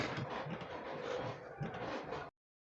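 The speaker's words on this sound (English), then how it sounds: "So let's go to the sewing machine and sew." A sewing machine stitches fabric for a cone-structure sleeve, running steadily for about two seconds, a dense mechanical whir with a quick stitching rhythm, then stops abruptly.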